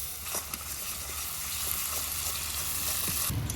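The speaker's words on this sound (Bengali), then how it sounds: "এখন এর মধ্যে দিয়ে দেবো আমি আদা আর রসুন বাটা এটা দিয়ে দু মিনিট মতো কষিয়ে নেব" Ginger-garlic paste fries with onions in a pan, giving a loud, steady, continuous sizzle throughout, with a few soft stirring scrapes under it and no talking.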